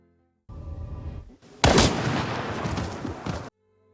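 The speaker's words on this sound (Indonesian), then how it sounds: "tembakan yang dilancarkan Hinako nggak mempan ke Utsubo" A loud, sharp gunshot-like blast erupts after a low rumble and rolls on as a heavy booming roar before stopping abruptly.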